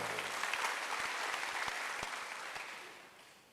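A church congregation at a Sunday worship service breaks into a short burst of applause, a close, full patter of many hands that gradually fades away.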